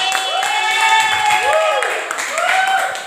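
Schoolchildren in a classroom clap in rhythm while their voices chant along loudly, the sharp claps sounding under the sung and spoken tones.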